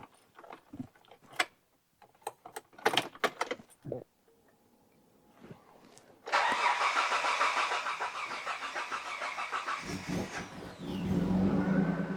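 A Mitsubishi Shogun engine cranks and fires after a few mechanical clunks and clicks, then settles into a loud, steady close-up idle that swells as it revs.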